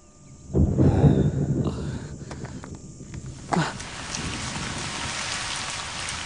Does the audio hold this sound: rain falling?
yes